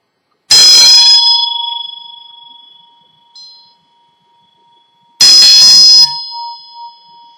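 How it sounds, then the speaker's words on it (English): A bell rung in an energy-clearing ritual gives two loud, bright strikes several seconds apart, each ringing out and slowly fading into quiet. "we're just going to use the bell"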